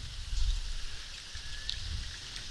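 Steady rain falls around a parked 2023 Harley-Davidson Nightster Special motorcycle, a broad continuous hiss with low rumbling patter, fairly loud and unbroken with no one talking.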